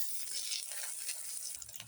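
Egg frying in oil in a wok, a steady broadband sizzle with crackling hiss that holds evenly throughout, close and fairly quiet, with no talking.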